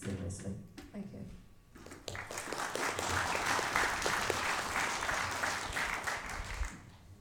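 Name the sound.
audience clapping at election hustings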